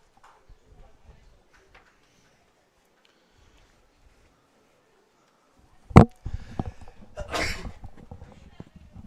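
A single sharp sneeze bursts out near the middle, followed by rustling and faint murmuring; quiet room tone and soft movement come before it, in a baseball broadcast booth.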